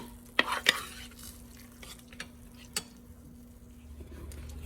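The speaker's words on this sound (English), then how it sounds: "The cream cheese has melted beautifully. Give it a big old stir." A spoon stirring a Rotel sausage dip with melted cream cheese in a pan: soft scraping and a few sharp clinks against the pan over a faint sizzle and a low steady hum.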